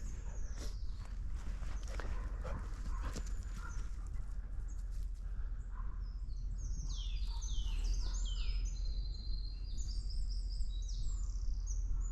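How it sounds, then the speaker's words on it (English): A Eurasian wren sings a long, rapid trilling song from up in the trees on a winter day, faint and distant, following several soft hoof or footstep thuds in a quiet outdoor setting. "That very long song, that was a Eurasian wren."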